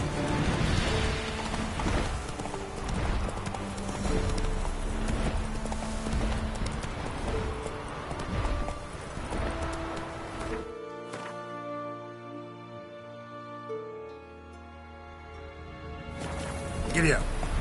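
Hoofbeats of a horse galloping in The Witcher 3 on PS4, a steady clip-clop running under a dense game soundtrack and shouted dialogue, with the music thinning out partway through.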